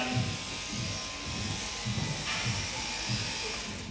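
Electric clippers shearing a sheep at a wildlife park in Western Australia, a steady motorized buzz with rhythmic low thumps as the blades work through wool, continuous and fairly close.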